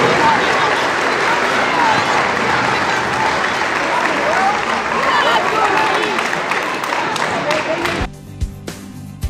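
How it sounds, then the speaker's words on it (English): Sustained applause from a crowd at a girls basketball hall of fame ceremony, dense steady clapping that carries on for several seconds before thinning out into a few scattered claps. "Let's give a final round of applause to these girls"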